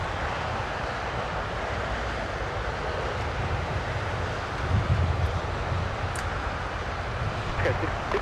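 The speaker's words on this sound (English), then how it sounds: "here is Qantas with a 787 Dreamliner from Brisbane" A Qantas Boeing 787 Dreamliner at LAX produces a low, steady jet roar that swells slightly midway, mixed with wind noise across the microphone.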